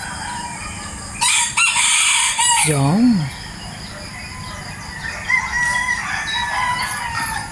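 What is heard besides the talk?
roosters crowing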